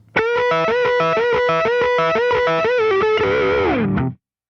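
Distorted electric guitar plays a rapid run of quick string bends and picked notes, ending in a bent note that slides down and cuts off.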